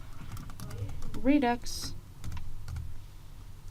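Typing on a computer keyboard while installing the Redux-thunk library with npm, steady soft key clicks running under a man's speech throughout.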